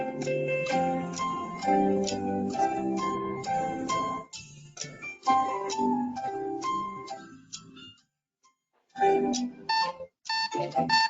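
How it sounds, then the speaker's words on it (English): Quiz countdown timer music with a regular ticking beat and tonal notes, loud and continuous, briefly cutting out to silence near the end before resuming. "So timer starts now."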